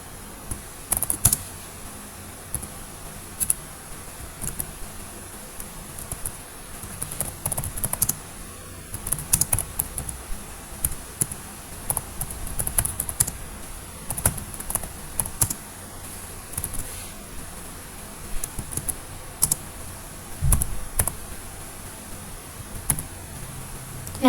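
Quick, uneven clicks of a computer keyboard as program code for an integer array routine is entered, with steady close-up typing and short pauses over a low room hum for about twenty-four seconds.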